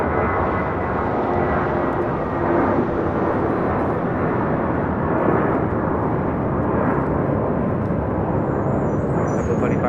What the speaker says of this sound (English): 2532 taking off to Salt Lake City on an A320